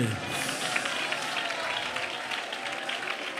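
A congregation claps hands together during Malayalam Christian worship, a dense, sustained patter of many hands filling the hall beneath a preacher's voice.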